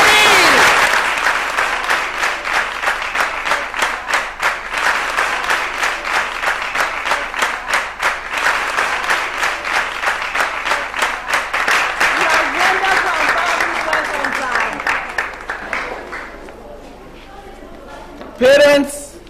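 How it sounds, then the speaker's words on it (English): An audience at a school prize-giving ceremony breaks into sustained, even applause that carries on for about fifteen seconds, then tapers off into quiet, with a brief burst of sound near the end. "Let's give him a round of applause, everybody!"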